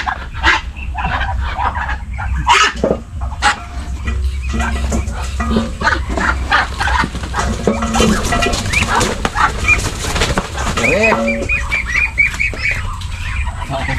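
Ducks squawk and quack repeatedly, close by, in a noisy outdoor setting with continuous overlapping calls and some background rumble.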